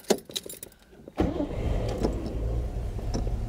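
A 1955 Mercedes 300 b Cabriolet D fires up after a few clicks and rattles, its engine catching instantly and settling into a close, steady idle rumble.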